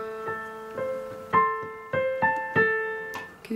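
The original recording of a piano theme from The Giver plays as a gentle solo piano phrase, with ringing melody notes over soft low chords in an unhurried rhythm, clear and close with no voices.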